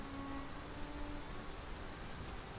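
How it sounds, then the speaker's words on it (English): Steady rain falls in the video game Dragon's Dogma 2, a soft even hiss with no distinct drops, constant and moderately quiet throughout with a faint tonal hum underneath. "It's my first time ever hearing it rain."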